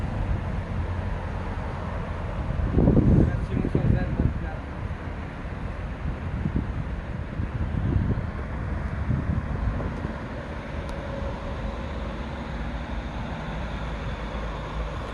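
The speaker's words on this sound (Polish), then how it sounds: "wiatr wieje nam prosto w pysk" Steady low wind rumble buffets the microphone beside the Kamienica river in Nowy Sącz, with a few louder gusts early on, continuing throughout without speech.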